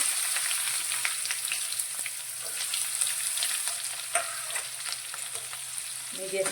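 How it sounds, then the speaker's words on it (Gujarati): Finely chopped onion sautés in a pan over lowered flame with curry leaves and asafoetida, giving a soft, continuous sizzle with faint crackles and occasional stirring close by. "ફ્લેમ થોડી ધીમી કરી અને આપણે ડુંગળીને સાંતળી લઈશું"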